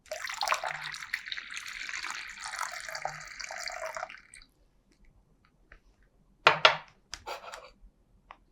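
A soil and water mixture is poured into a polythene tube, making a steady splashing, gurgling pour for several seconds, followed by a few drips and light knocks of the container.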